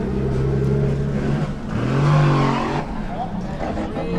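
Drift cars, including a Supra, rev hard at the Hungaroring in Budapest during a European drift championship run, engines droning and rising in pitch under a commentator's continuous talk.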